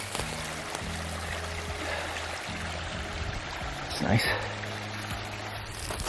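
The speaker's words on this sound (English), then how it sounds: "There's a waterfall right here." Steady broadband rush of a waterfall heard close by and continuous under a hiker's brief quiet remark, with low droning tones running beneath.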